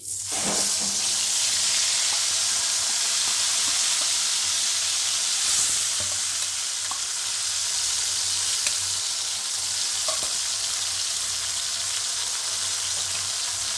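Tomato, ginger and green chili paste frying in hot oil for a tinda and sweet corn curry, giving a steady, loud broadband sizzle throughout with a few faint clinks of stirring and no talking.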